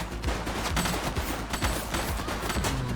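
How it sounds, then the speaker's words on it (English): Dense, continuous gunfire from a police video game set in a city precinct, several weapons firing rapid overlapping bursts at close range for the whole stretch with no pauses. "Shots fired!"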